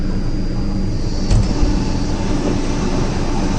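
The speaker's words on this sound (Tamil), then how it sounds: "இந்த சைடு ட்ரெயின் வரோம் பாருங்கள்" A Vande Bharat express train runs past a level crossing in Mangalore during the monsoon, a steady near rumble of wheels and carriages with one brief louder thump partway through.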